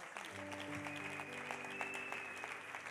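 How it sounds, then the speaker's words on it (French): An audience at a church service claps steadily and continuously, with a dense, somewhat distant wash of applause over sustained background music tones. "Acclamez-les très fort."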